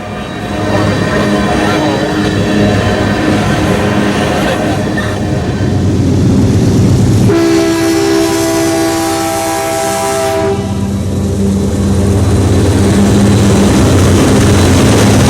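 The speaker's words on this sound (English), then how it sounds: "empty CP oil train 609 is viewed en route from Albany, New York to the Bakken via BNSF" An empty CP oil train rumbles past loudly and close with a steady roar of rolling cars, a sustained horn blast sounding partway through over the continuous rail noise.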